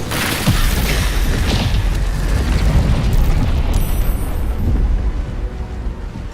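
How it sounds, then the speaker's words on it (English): A loud booming blast from alchemist fire detonating in Baldur's Gate 3, a heavy rumbling explosion that rolls on and crackles as it fades, with no talk. "Throw the alchemist fire at these."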